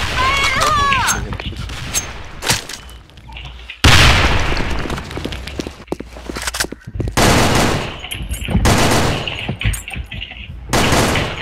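A grenade is thrown and bursts in a shooting video game, with loud bursts of gunfire and a sudden heavy blast near the middle, while a player talks over the action.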